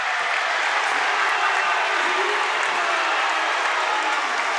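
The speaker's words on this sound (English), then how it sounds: "This crowd has started to come to life." A high school basketball crowd in a near-capacity gym applauds and cheers steadily, a dense loud wash of clapping and shouting that holds without pause.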